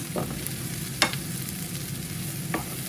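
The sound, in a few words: ingredients stir-frying and sizzling in a pan for curry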